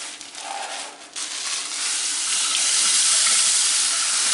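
Water pours steadily into a rye malt mash for braga, a broad hiss that builds and grows louder and fuller, with a brief dip near the start; no talk.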